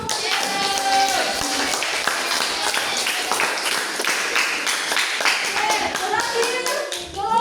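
A classroom of students claps for a group that has just finished its presentation, a brisk, fairly close round of hand clapping that runs steadily for several seconds with children's voices mixed in, then tapers at the end.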